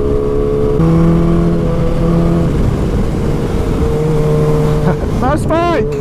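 A tuned Kawasaki H2 supercharged motorcycle with an Akrapovic exhaust revs loudly and steadily, its engine note holding and stepping in pitch before a quick rising, falling rev burst near the end.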